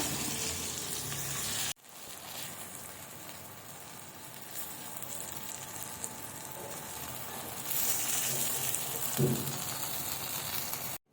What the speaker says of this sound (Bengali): কেটে রাখা গোল গোল করে বেগুনগুলো এখন কিন্তু একে একে ছেড়ে দিচ্ছি তেলের উপর